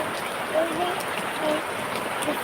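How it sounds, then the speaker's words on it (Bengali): Heavy rain falls in a continuous dense hiss, steady and close, while faint voices murmur in the background. "কত বৃষ্টি হইতেছে"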